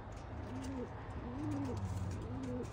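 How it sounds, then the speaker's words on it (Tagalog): Racing pigeons coo in a loft, soft throaty calls repeating in a steady rhythm close by over a low background hum. "So ayan sila mga kalapatids, getting ready for the next battle."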